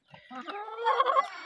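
Chickens and roosters in a village coop give a short burst of clucking and fowl calls, close and moderately loud, with several overlapping voices rising toward the end.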